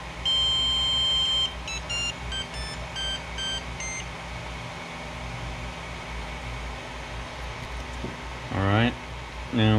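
An Aquila Pro 3D printer powering on gives a series of short electronic beeps over a steady fan hum, followed by a low hum of background noise and a brief voice near the end.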